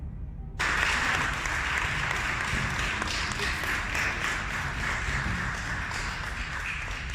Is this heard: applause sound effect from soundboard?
yes